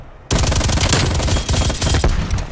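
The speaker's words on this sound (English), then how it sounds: "Stop shooting at me." Rapid automatic gunfire from the video game Call of Duty Cold War erupts after a short quiet start, a loud, near, continuous stream of shots with a brief dip midway.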